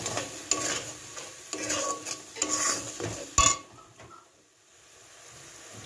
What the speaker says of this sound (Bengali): এবার এটাকে দিয়ে ভালো করে কষবো।